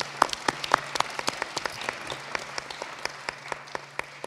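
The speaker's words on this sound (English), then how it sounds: "let's give a round of applause before they start" Applause at a board of education meeting before a music group performs, with a steady wash of many hands clapping and sharp individual claps popping out close by; a low steady hum runs beneath.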